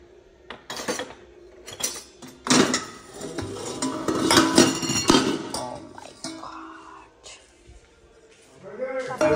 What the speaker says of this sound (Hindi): तो चाय के लिए बर्तन लेती हूँ